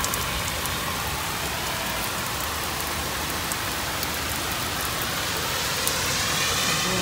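Heavy rain pours steadily onto outdoor surfaces in a loud, dense, unbroken hiss, with scattered close drips and no voices.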